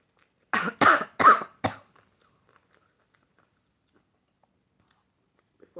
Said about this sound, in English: I had a worse cough than this.